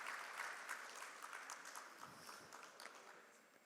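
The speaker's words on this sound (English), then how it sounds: "Let's give them a huge round of applause," Audience applause for a panel of speakers at a cinema industry expo session, a broad steady clapping that fills the clip and slowly tapers toward the end, with no talk over it.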